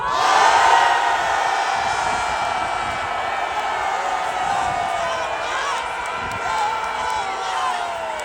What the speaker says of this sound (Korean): 여기에 모인 모든 분들의 함성이 들리십니까?